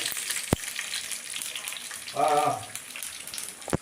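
Urad dal, chana dal and dried chili crackle in hot oil, a steady broadband fizz with a couple of sharp pops, while a voice talks briefly over it.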